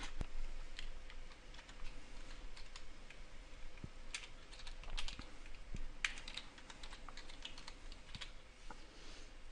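Computer keyboard typing during a Windows 7 setup, entering a name: steady, close clicking keystrokes in uneven bursts over a low room hum, with no voices.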